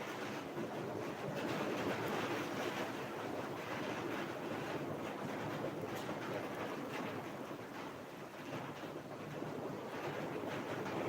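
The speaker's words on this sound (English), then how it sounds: "oh, little rainstorm. Maybe some hailstones will come." A rainstorm roars as a steady, dense broadband wash of falling rain, loud and continuous throughout with no distinct hail impacts and no voices.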